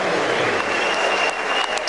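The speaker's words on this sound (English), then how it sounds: "It's a clap from his teammates looking on" Teammates clap for a batsman's half-century during an Australia vs New Zealand one-day international cricket match, steady dense applause heard at a distance.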